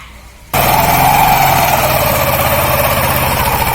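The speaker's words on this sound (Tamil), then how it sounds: "இப்போ வந்து வண்டியை ரன் பண்ணி பார்க்கலாம்." A TVS Wego scooter with a freshly repaired clutch and replaced roller unit starts abruptly after a quiet moment, then idles close and loud with a steady buzzing, vibrating engine drone.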